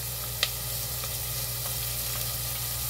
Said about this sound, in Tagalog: dito ko na po igigisa ang onion